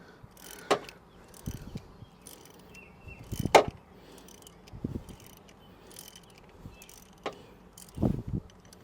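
Long engine bolts on a GM 3800 being loosened with a ratchet, irregular bursts of clicking and metallic clanks separated by pauses, close and moderately loud with no talk.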